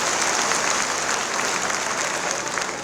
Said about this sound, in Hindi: आप सबसे निवेदन करता हूं कि मातृशक्ति के सम्मान में जोरदार ताली बजाकर मातृशक्ति का सम्मान करें